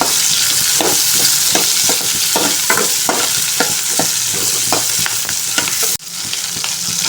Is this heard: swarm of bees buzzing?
no